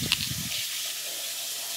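Fenugreek leaves are washed in water in a kitchen, with a brief splashing and sloshing at first, then a steady running-water hiss.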